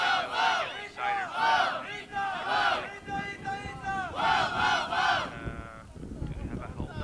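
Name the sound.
crowd cheering at competition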